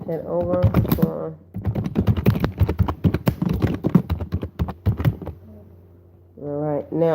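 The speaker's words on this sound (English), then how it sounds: "Now all that typing." Rapid clicking of a computer keyboard being typed on, steady bursts running under a person talking through most of the clip.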